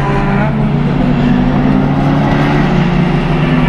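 Closed-wheel race cars, BMWs and a Honda Fit among them, roar steadily in a B-Spec video game race, a dense continuous engine drone with sustained tonal whine and no break.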